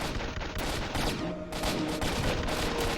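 AK-74 fire in a video game mission on an eastern border: rapid, repeated shots close and loud, in bursts that fill the whole stretch with little pause.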